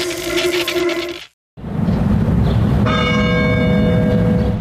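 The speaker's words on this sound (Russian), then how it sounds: "Учебный день в православной школе начинается с колокольного звона." Church bells ring out loud and close at an Orthodox school to open the school day, a dense, sustained peal broken by a brief gap before the bells start again and ring on steadily.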